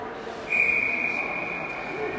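A referee's whistle at a girls' high school hockey game between Tecumseh Vista Vortex and Lajeunesse Royals, one sustained shrill blast lasting well over a second amid arena background noise.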